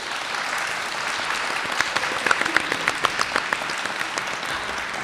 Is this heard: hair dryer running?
no